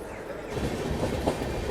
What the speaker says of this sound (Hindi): चलिए, इगतपुरी से अपनी ट्रेन निकल चुकी है और रेडी है घाट सेक्शन में एंटर करने के लिए।